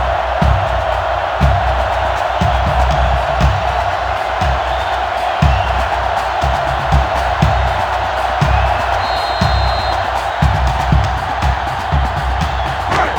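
Steady, loud stadium crowd roar and cheering from a simulated college football game, Tennessee at Notre Dame in NCAA 06, rumbling continuously with periodic thumps and swells throughout.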